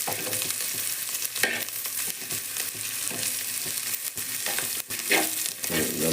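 Pirandai (veldt grape) being sautéed in a pan for thuvaiyal makes a continuous close sizzle, broken by repeated spoon scrapes and stirring knocks. No talking is heard.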